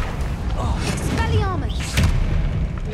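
A Bombarda spell explosion in Hogwarts Legacy, a booming blast heard beneath a voice shouting spell names, followed by a second thump as another spell lands.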